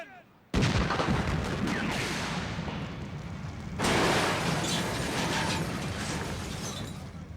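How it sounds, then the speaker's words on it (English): A sudden loud blast from a film cable car explosion effect erupts, then a long roaring rumble with crackling debris, and a second surge of noise follows a few seconds later. "After successfully completing the cable car explosion, Bay turns to visual effects supervisor Hoyt"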